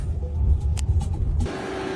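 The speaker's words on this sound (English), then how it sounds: "I'm in a car that's driving itself" Interior of a self-driving car on the move, a steady low road rumble and engine hum with a few faint clicks, and a softer, thinner tone in the final half second.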